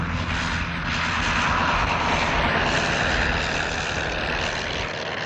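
Propeller drone of a First World War aircraft engine in flight, a loud continuous roar with a rough, steady texture that holds without pause.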